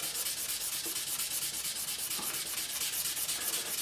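Abrasive grit paper rubs steadily across the frets of a PRS SE Bernie Marsden guitar during a fret level, a continuous, close, even scratching hiss with a gentle back-and-forth rhythm throughout.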